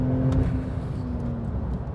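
A Porsche sports car accelerating hard on a race track, its engine a steady, close drone that holds a sustained tone throughout.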